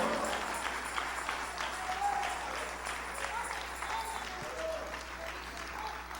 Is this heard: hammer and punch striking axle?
no